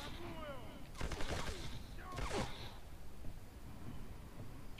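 Distant gunfire in the video game Black: two short crackling bursts of shots from afar over a steady noisy game background, with faint other effects between.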